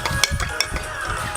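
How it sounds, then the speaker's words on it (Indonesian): Spoon stirring Flimty fiber drink powder in a glass, quick repeated clinks and scraping taps in an uneven rhythm, close and moderately loud. "Aduk sampai merata."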